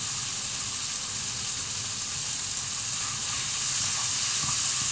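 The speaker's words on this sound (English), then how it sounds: "Right, garlic in. Garlic and ginger in." Garlic and ginger fry in a hot pan with a loud, continuous sizzling hiss that stays steady throughout and swells slightly toward the end, with no talking over it.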